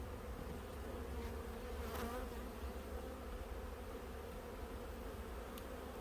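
Honey bees hum around an open hive while queens are being raised, a dense, steady, faint swarm drone filling the whole stretch with no talk.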